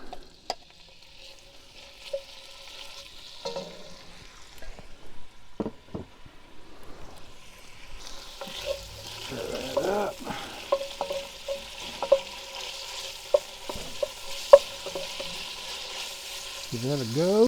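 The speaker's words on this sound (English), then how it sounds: "Right over that direct heat. We'll add our steaks." Steaks searing over direct heat for a beef stew; after a few scattered clanks and taps, a broad steady sizzle rises about halfway through and continues with occasional knocks of utensils.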